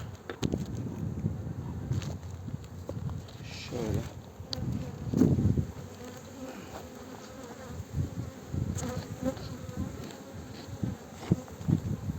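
Honey bees buzzing around an opened beehive in an apiary in Muğla, Turkey, a continuous close hum with individual bees flying past the microphone, heard under a man's intermittent speech.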